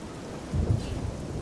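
Steady rain with a low rumble of thunder swelling midway in the fantasy game Oblivion, a soft, continuous storm wash with a heavier roll near the middle.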